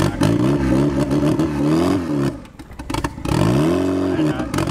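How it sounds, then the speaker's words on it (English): A 1.6L turbo Miata engine fitted with Deatschwerks 550cc injectors and a 165LPH fuel pump, running rough after tuning, revving loud and close in uneven surges with a brief stumbling dip between pulls. "Running really rough because of the whole tuning aspect."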